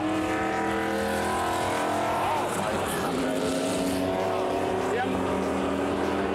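A DeLorean DMC-12 drives on a race track, its engine note rising and falling in a steady loud drone that shifts pitch as it accelerates, with a voice talking over it.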